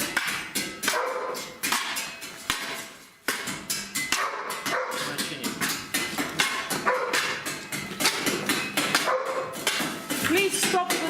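A dog barks repeatedly and loudly in sharp bursts during a search-and-rescue trial, with clattering metallic sounds and busy background noise throughout.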